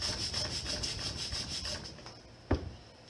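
A wooden knife handle is sanded by hand with rhythmic back-and-forth rasping strokes, close and fairly quiet, ending with a single sharp knock.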